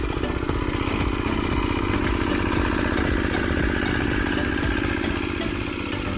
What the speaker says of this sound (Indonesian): mesin ini memiliki dua fungsi, yaitu pertama membajak di ladang kering seperti ini